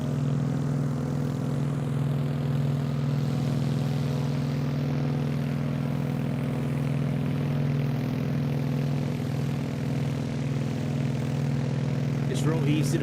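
PMDG 777 airliner engines in Microsoft Flight Simulator, a steady, loud, unbroken jet hum and whine holding evenly throughout.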